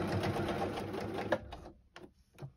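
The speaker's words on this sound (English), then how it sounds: "So I'm going to do a long stitch. Longer stitch, or just a basting stitch" A sewing machine runs a long basting stitch through two fabric layers for a dress, a steady close whir for just over a second, then stopping into a few faint short bursts and handling noises.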